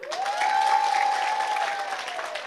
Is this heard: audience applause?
yes